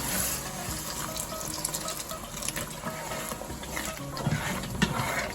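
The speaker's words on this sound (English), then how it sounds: "We are going to go on and add some water." Water pours and splashes into a pot of fish stew with a continuous rushing hiss, over a sizzle and a few clinks of metal.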